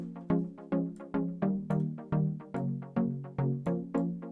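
Synth chord stabs repeating in a steady rhythm, each hit trailed by soft, filtered delay echoes that decay between strikes; close and moderately loud, with no voices.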